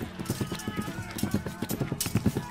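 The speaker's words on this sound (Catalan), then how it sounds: "Els guerrers van esperonar els seus cavalls amb força i van carregar." Warriors' horses charge in a medieval battle, hooves pounding in a fast, dense galloping rhythm that stays loud and close throughout, with someone narrating over it.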